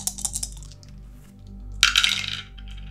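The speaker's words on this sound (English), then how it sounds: "so we're going to roll her dice" Dice rolled for the Arkham Horror board game: a light rattle of small clicks at first, a pause, then a bright clattering tumble that settles with a few last taps.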